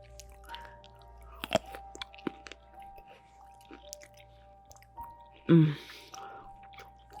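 Crunchy chewing of food at a dinner party, close and intimate in binaural ASMR style, with soft mouth sounds and one louder crunchy burst late in the clip amid quiet background tones.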